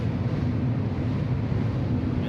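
A deep, steady roar of spaceship engines running at full power in Star Citizen, a continuous low rumble and rushing hiss with no breaks.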